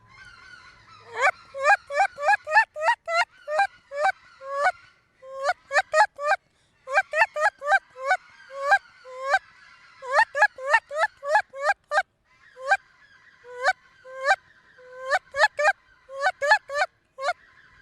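A caller at a state duck calling contest imitates a Canada goose honker, giving sharp, two-note honking clucks in quick clusters separated by short pauses, close and clear, with no talking.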